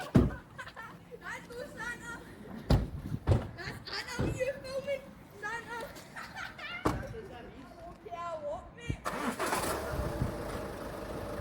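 A car engine starts and the vehicle drives off during a roadside police stop, the engine sound rising under loud, continuous talking, with a broad noisy surge near the end.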